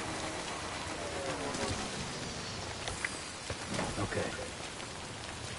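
Steady, soft rain (timefall) falling in the video game Death Stranding, an even hiss of drops with a faint brief voice near the end.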